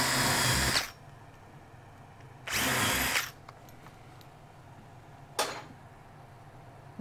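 Power drill driving a screw into a melamine cabinet, with three separate close bursts: a longer whir, a second run of similar length, then a brief final blip, separated by quiet pauses.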